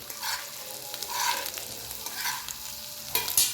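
Potato pieces shallow-fry in a pan with a soft continuous sizzle, broken by repeated scraping stirs of a utensil and a sharper clink near the end.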